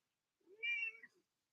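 A single drawn-out cat meow, clear and alone against silence, rising and then falling over about a second.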